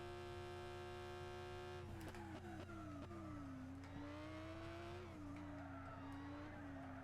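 A race car engine in Gran Turismo 6 at Le Mans revs high and holds a steady whine, then drops in pitch through several quick gear changes before climbing again, loud and continuous with no talk.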